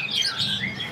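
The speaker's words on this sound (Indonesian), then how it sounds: "Kita akan review yang namanya burung jalak Hongkong." Juvenile jalak Hongkong bird giving a quick bright chirp, a single short burst of high twittering, close and clear with no talk.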